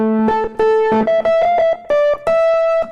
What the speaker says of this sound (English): with a synth quality with that distortion